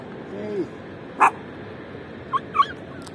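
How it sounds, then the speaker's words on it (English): A few brief yips and whimpers from a dog, short and sharp over a quiet background hum, with a faint murmur early on. "Oh, there's a doggy there."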